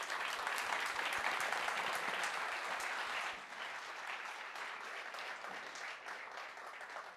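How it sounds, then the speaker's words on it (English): An audience claps after a panel session on the main stage of a Flutter developer conference, a dense, even wash of applause that stays steady, then dips slightly and carries on without voices. "give them all an applause"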